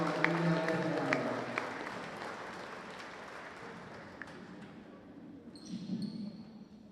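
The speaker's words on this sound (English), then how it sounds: "Let's give them all a round of applause" Gym crowd at a high school volleyball match applauding the seniors, a broad, steady wash of clapping that thins out and fades toward the end, with a brief whistle-like tone near the close.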